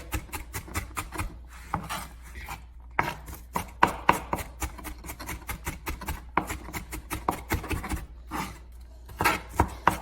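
A knife chops onions on a cutting board for Manhattan-style seafood chowder, with rapid, close, crisp strikes in quick bursts and a few short pauses between runs.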